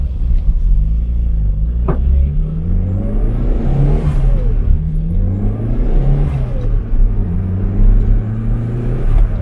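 Turbocharged Toyota Starlet engine revving loudly and close, with repeated rising and falling pulls and a deep rumble throughout, no talking.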